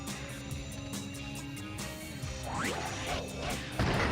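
Robots getting smashed in the Shadow the Hedgehog video game, a run of metallic crashes and thwacks with whooshing sweeps over game music, building louder toward a final impact.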